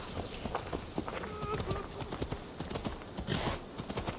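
Horse galloping in Assassin's Creed Valhalla, rapid clip-clop hoofbeats in a steady running rhythm mixed with game sound effects and some background voice.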